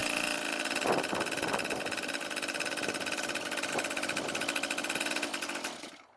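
A small 2-stroke pocket bike engine runs close by with a fast, buzzy, rattling drone that holds steady for several seconds and then cuts off abruptly at the end.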